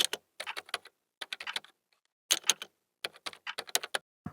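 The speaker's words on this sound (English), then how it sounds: "Tut continues to type" Brisk typing on a keyboard, close and clear, with bursts of rapid clacking keystrokes separated by short pauses.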